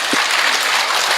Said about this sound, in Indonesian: Tepuk tangan dulu buat Ibu Ketua.